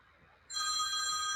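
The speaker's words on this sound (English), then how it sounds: "And the phone's ringing." A telephone starts ringing partway through, a bright electronic trill with steady harmonic tones that holds at even loudness after a short quiet lead-in, fairly close and without speech.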